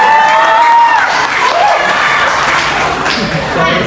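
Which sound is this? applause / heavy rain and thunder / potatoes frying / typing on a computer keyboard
applause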